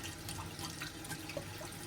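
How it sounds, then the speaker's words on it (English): A spoon is rinsed under a running kitchen tap, giving a faint, steady trickle of water with small splashes and drips for a couple of seconds. "I gotta rinse the spoon off."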